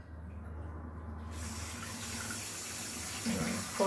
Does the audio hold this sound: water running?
yes